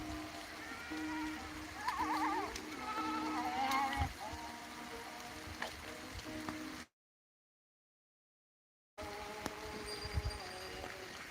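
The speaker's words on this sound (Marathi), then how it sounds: "शेळ्या सोडलेल्या आहेत" Goats let loose on a farm bleat in heavy rain, several wavering calls rising over a steady wet patter, moderately close, with the sound cutting out briefly before the rain and scattered bleats return.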